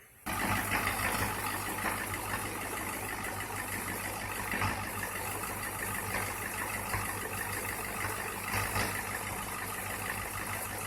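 A 100 amp diesel generator beside a slide-in camper set up off grid kicks in abruptly, then settles into a steady, continuous mid-pitched engine drone at moderate distance, with no talking.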